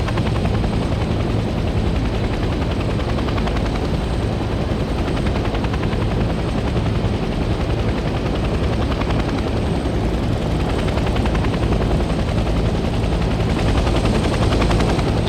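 Loud, unbroken helicopter engine and rotor roar from the Vietnam War shooter Hell Let Loose Vietnam, a dense, close whirring drone holding steady throughout with no speech.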